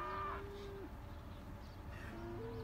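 Cattle at a Nebraska feedlot moo faintly and far off, one drawn-out low call at the start and another near the end, over a soft outdoor background hum.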